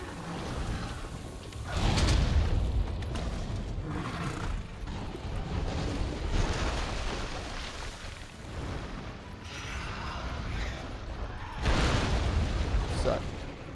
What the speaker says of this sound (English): Let's hit him with some bombs.